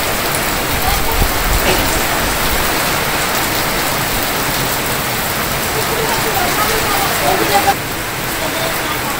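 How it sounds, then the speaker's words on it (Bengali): Heavy rain pours steadily in a Bangladeshi village during a storm, a dense, loud hiss of drops on surfaces that continues throughout and eases slightly near the end. "যে বৃষ্টি বাবারে বৃষ্টি"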